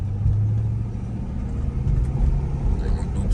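A 2011 Jeep Grand Cherokee with a 5.7 Hemi V8 rumbles steadily from the cabin while driving, a loud low drone with slight swells as throttle changes.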